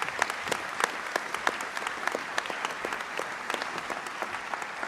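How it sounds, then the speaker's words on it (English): Applause fills a graduation ceremony as an audience keeps clapping, sharp individual claps standing out over a moderate, continuous patter throughout. "Keep that round of applause going for Robert."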